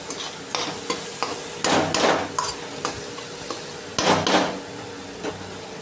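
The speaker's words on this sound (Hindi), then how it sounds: "अब हम इसको अच्छी तरह से मिलाएंगे" Mashed eggplant bharta with garam masala being stirred in a pan, rhythmic close spatula scrapes and thumps over a soft sizzle.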